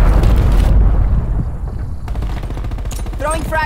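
Frag grenade blast and gunfire in Call of Duty Black Ops Cold War, a loud, dense burst of booms and rapid shots opening the clip, fading briefly and then building again with more battle noise.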